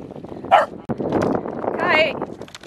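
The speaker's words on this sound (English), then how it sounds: "Kai, you're making all the dogs bark." Several dogs bark and yip in an outdoor setting on a cold, windy day, with sharp barks clustered near the start and again toward the end, mixed with ongoing talk and wind noise.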